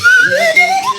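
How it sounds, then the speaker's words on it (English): A silly novelty whistle is blown in one short warbling toot, its pitch sliding up and down for about a second, close and fairly loud. "Mike Rhyner and Matt Howerton blow into a silly whistle for an hour"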